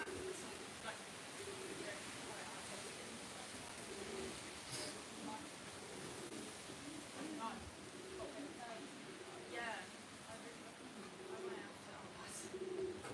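Racing pigeons coo softly in repeated low, throaty phrases outdoors around a loft, faint against steady background noise.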